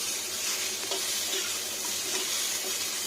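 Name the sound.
potatoes frying and sizzling in oil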